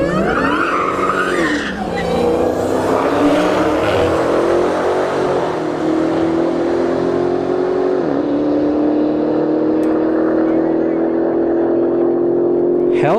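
A Hellcat Challenger and an Audi RS5 launch on a drag strip, with loud tire squeal and engines revving hard and pulling away, the roar staying strong and steady throughout.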